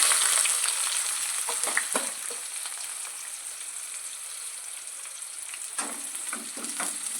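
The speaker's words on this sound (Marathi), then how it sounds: "छान असं भाजून घ्यायचं कांदा" Two large chopped onions frying with curry leaves in a pan for a Marathi alu vadi, a continuous close sizzle with occasional soft stirring scrapes, loudest at the start and then settling.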